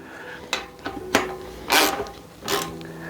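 Bicycle wheel nut worked with a 15 millimeter socket wrench, giving four separate bursts of ratcheting rasp, each under a second, close by with no talking.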